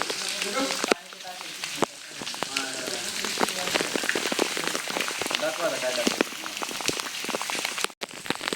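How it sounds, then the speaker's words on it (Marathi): Heavy rain patters and sizzles on surfaces nearby at Ghangad fort in fog, with sharp drips and taps scattered throughout while indistinct voices murmur underneath. "मुसळधार पाऊस चालू आहे"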